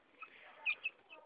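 Farmyard chickens and roosters in Muğla give a few faint, brief clucks, two slightly louder calls standing out over a quiet background.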